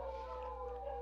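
Dogs howl in a steady, drawn-out tone over a low hum, with a sustained pitch and no talk.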